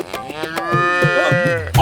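A calf lets out one long, loud, close moo, a drawn-out bellow that holds steady and then breaks off, with a brief knock just after.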